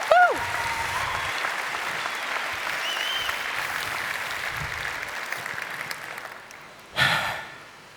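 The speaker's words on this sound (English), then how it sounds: "Please give Arash Aazami a warm round of applause" Warm conference audience applause for Arash Aazami, steady moderate clapping throughout after a short whooping voice at the start, with a brief louder burst of noise near the end.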